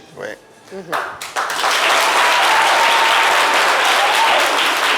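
Audience applause at a talk about women's entrepreneurship, swelling from scattered claps under a brief voice into dense, steady clapping that fills the room.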